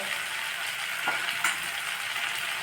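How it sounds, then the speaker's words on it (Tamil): Steady sizzling and frying of mudakathan greens sautéing in a hot pan, with a couple of faint stirring scrapes; no talking. "முடக்கத்தான் கீரையை வந்து இதில் போட்டுடலாம் இதை அது நல்லா வதக்கணும்"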